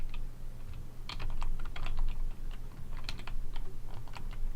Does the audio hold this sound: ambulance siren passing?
no